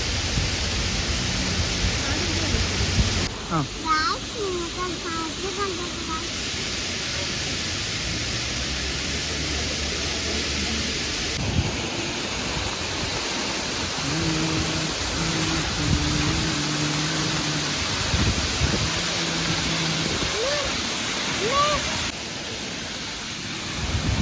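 A waterfall in Vagamon rushes in a constant, loud broadband roar, steady and close throughout with no voices.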